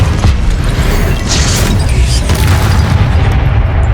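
A Repulsor spell blast in Hogwarts Legacy booms loud and dense, a sustained low rumble with a crashing burst through the middle and no voices over it.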